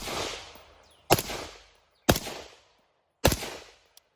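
Three sharp suppressed rifle shots, fired through a Griffin Armament S.O.B. buffer system, crack outdoors at a steady pace about a second apart, each leaving a short decaying tail, with no voices.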